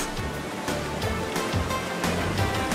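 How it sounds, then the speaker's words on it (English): The Kursunlu waterfall near Antalya, Turkey, gives a steady, full rushing roar of falling water, close and continuous with no pauses, and no one speaks. "The Kursunlu waterfall is particularly impressive."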